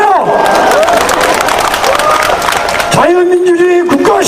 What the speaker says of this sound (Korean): 박수 세게 쳐요.